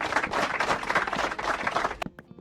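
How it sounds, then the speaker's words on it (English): Applause during a Minecraft stream, a dense wash of clapping that runs steadily and loudly for about two seconds and then cuts off abruptly. "Thank you for the applause."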